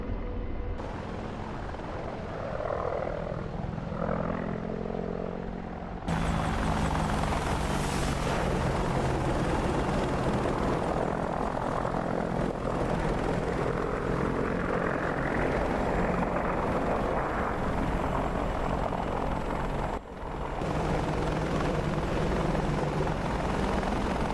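AH-64 Apache helicopter flying in the DCS World combat game, a loud, continuous rotor and turbine drone that carries on steadily through the whole stretch, with a brief dip near the end.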